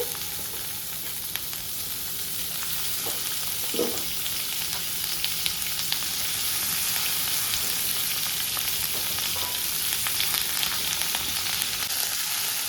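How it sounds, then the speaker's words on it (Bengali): Onion, tomato, ginger and garlic fry together in a pan for butter chicken, giving a steady, dense sizzle throughout with a few soft stirring scrapes and knocks. "এই যে দেখো আমি এগুলো ভালো করে ভেজে নিচ্ছি, একটু নরম করে ভেজে নেব।"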